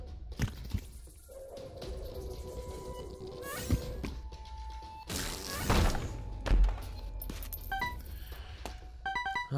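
A bomb blast in The Binding of Isaac, a single broadband burst near the middle standing out from busy game sounds and a steady background hum, with another thud shortly before it.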